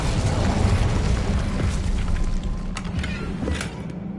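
A fire spell is cast during gameplay of the video game Hogwarts Legacy, giving a dense, rumbling burst of roaring, booming game effects that stays loud and steady over about four seconds with a few sharp crackles near the end.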